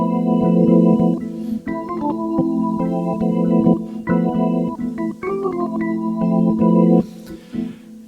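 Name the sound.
jazz organ sound on Roland Fantom virtual tonewheel organ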